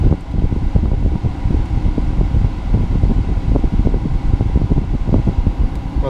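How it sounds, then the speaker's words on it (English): Nissan Leaf with the DC-DC converter running and its cooling fan whirring, a loud, steady rushing hum with rapid fluttering pulses, close and continuous, with no voices. "And now the DC-DC converter's kicked in."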